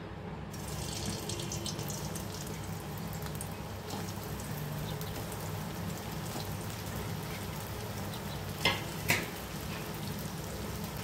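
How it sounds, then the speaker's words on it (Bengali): Chhena koftas fry in hot white oil in a kadai, giving a steady, dense sizzle throughout. A couple of brief, sharper crackles stand out near the end. "সাদা তেল গরম হয়ে গেছে, দেবো ছানার কোপ্তাগুলো।"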